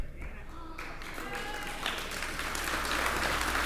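Audience applause at the Grant Center ribbon cutting in West Savannah, clapping rising from a lighter start with a voice over it into a fuller, louder crowd ovation by the end.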